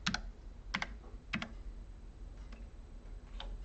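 Keys clatter on a computer keyboard while CSS code is entered for a daily coding challenge, coming in three short, close bursts of clicks followed by a few fainter isolated taps against a steady low room hum.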